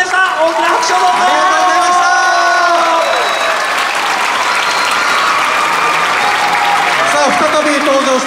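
A large crowd at a performance at Ikebukuro Sunshine City claps and cheers loudly and continuously, with voices talking over the dense applause.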